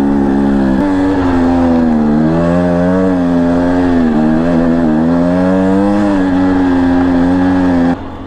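A Husqvarna TE250i dirt bike engine on a steep, rough climb: a loud, close, continuous drone, its pitch wavering up and down as the throttle is held open.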